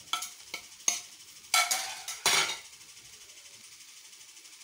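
Spices being stirred into a potato kurma in a pan, heard as a few scraping, rasping strokes with brief sizzle, then a low steady background.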